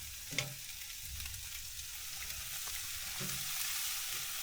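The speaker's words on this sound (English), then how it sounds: "Let's flip the ribs." Ribs sizzle and fry steadily in a hot pan, a soft continuous crackle with a couple of brief clinks or scrapes near the start and around the three-second mark, heard alone without talk.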